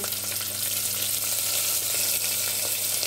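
Curry leaves, green chillies, onion pieces and salt fry in a pan for a drumstick tamarind curry, giving a steady, close, even sizzle with no talking.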